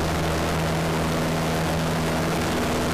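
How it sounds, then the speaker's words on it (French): A light aircraft's propeller engine roars at full power during its takeoff roll on a runway, a loud steady drone with a low hum, heard from inside the cabin. "Et on laisse l'avion accélérer."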